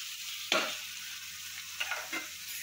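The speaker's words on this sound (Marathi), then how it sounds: "तेल आता आपला गरम झालेला आहे। आता आपण टाकू पनीर।" Paneer hitting hot oil in a kadai, a sharp sizzle burst followed by a steady frying hiss with a few brief crackles; nobody speaks.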